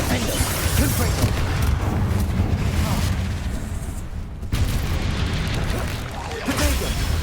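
Confringo spell explosions in the video game Hogwarts Legacy, a dense, continuous roar of booming blasts and crackling bursts mixed with game effects and a speaking voice, loud throughout with one brief dip.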